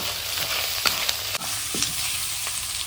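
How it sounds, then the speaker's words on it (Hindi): Ginger-garlic paste sizzles in hot ghee with cumin seeds and a bay leaf, a steady close frying hiss broken by a few sharp clicks and scrapes of stirring. "घी गरम हो गया था तो जीरा डाल दिया है, एक तेज पत्ता डाल दिया है और फिर ये अदरक लहसुन का पेस्ट डाल दिया है।"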